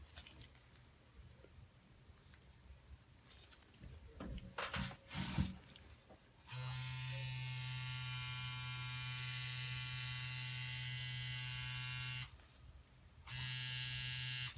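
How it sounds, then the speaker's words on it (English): A tattoo pen machine fitted with a Cheyenne needle cartridge, run at around 10 volts, gives off a steady high-pitched electric buzz after a few handling clicks. It runs for several seconds, cuts out briefly, then starts buzzing again. "So I got a Cheyenne needle cartridge here, and it fits in with no problem, as you can see. Nice tight fit. All right, let me run this machine."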